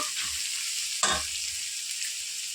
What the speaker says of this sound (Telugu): అల్లం పేస్ట్ కూరగాయలు కరివేపాకు మొత్తం కలిసి ఫ్రై చేస్తాము